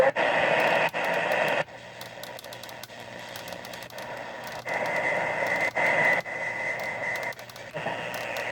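A Panasonic RF-562DD2 MW/FM/SW portable radio tuned to a station, its program sound steady and near with a hiss of static, with level drops and shifts as the signal and tuning change.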